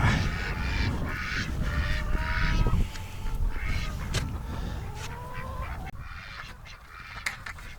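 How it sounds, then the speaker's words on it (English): Ducks and chickens gathered in an A-frame coop make repeated honking quacks and squawks in overlapping bursts, fairly close and lively, with clucking fowl mixed in and no one speaking. "All the chickens and ducks are gathered in there."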